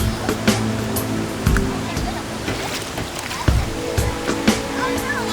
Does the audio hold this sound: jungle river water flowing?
yes